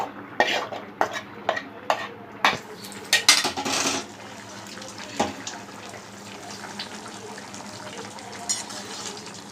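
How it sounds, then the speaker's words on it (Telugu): Prawns go into a pot of tamarind curry with mango pieces, a close series of sharp clinks and stirring scrapes against the pot, then a wetter, softer bubbling and occasional knocks. "ఇప్పుడు రొయ్యలు వేసేసుకుంటానండి పులుసులో"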